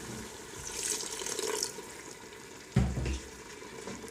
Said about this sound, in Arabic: الان غادي نضيف واحد شويه ديال المرق